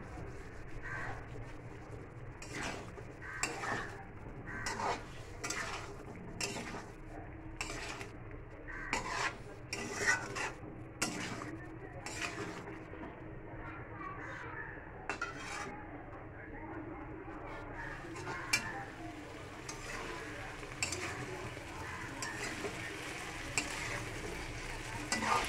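Cauliflower and fried potato being stirred in a pan with spices, tomato and turmeric, giving repeated scraping strokes over a low sizzle, with speech now and then.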